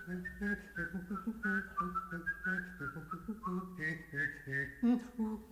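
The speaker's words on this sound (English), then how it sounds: "can whistle and hum different tunes at the same time" A clear whistled melody rides above a lower hummed line, both sounding together at once, close and fairly quiet, with the tune stepping between notes.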